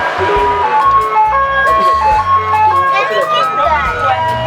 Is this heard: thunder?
no